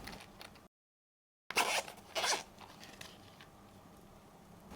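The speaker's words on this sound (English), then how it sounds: "Then we have the Kiwi Ears logo zipper pouch." A Kiwi Ears zipper pouch rasps open in two quick pulls after a brief gap, fairly close and clear with no talking.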